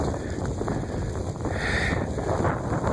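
Wind gusts of a New England blizzard rush steadily against the microphone with a broad, constant roar that swells slightly midway, loud and close with no voices.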